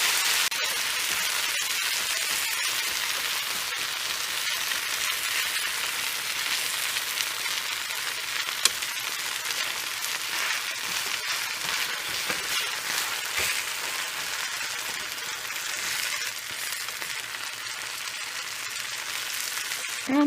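Potatoes fry in a covered stovetop skillet, giving a steady, soft, even sizzle with faint crackles throughout and no voices.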